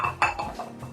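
Clinks and knocks of a deep plate being set down with tamped sauerkraut on it, a couple of sharp ceramic contacts and small scrapes, close and fairly loud.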